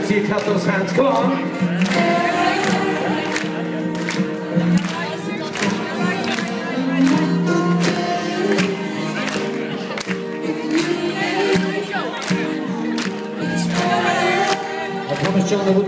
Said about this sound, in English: Let's see you clap those hands